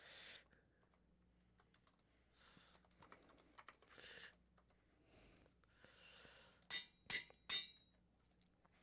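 Fingers type on a computer keyboard, quietly and in scattered bursts of clicking keys, growing into louder, sharper clacks toward the end.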